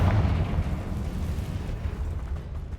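Fiery Confringo blasting spell going off in Hogwarts Legacy, a loud, sustained rumbling boom with deep low-end roar that holds steady for a few seconds without any talking.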